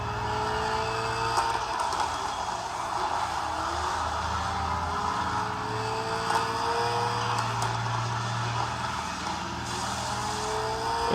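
A car engine roars steadily through a racing video game played on a notebook, with continuous drone and rising and falling revs throughout.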